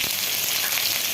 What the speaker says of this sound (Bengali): এখানে যে পেঁয়াজ দিয়ে দিলাম